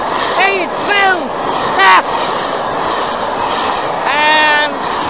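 A Class 57 locomotive, number 57307 "Lady Penelope", hauls a train past at Mytholmroyd with a loud, steady rumble and several rising horn-like tonal squeals, close by throughout.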